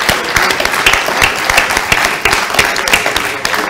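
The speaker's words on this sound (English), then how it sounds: "let's have another round of applause for our Mayor, Andy Burnham" An audience breaks into loud, sustained applause at a live public question-time event with a city mayor, dense clapping filling the room without letup.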